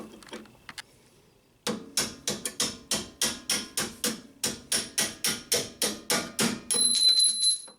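A hammer strikes a suspension strut part on a 2007 Honda Accord in a quick, even series of about fifteen sharp metallic blows, close and loud, after a few faint taps.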